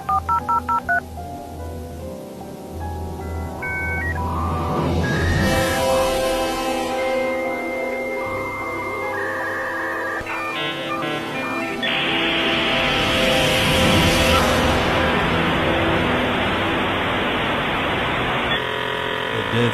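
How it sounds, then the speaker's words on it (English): Dial-up internet modem connecting, starting with a quick run of dialing tones, then loud screeching handshake tones, shifting buzzes and a harsh wash of static building toward the end, all close and continuous with no talking. "Who remembers dial-up internet?"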